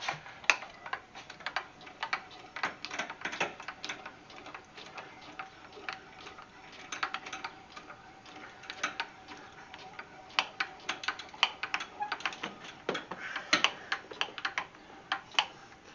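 A hand-cranked DIY hoist lifting a Jeep hardtop gives a steady run of light, quick ticks and clicks, close and fairly quiet, with no talk over it.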